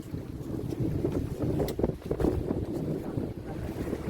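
A fishing boat out at sea off Tuticorin, with a continuous rough rumble of engine, wind buffeting the microphone and wash of water, steady and fairly loud throughout with no voices.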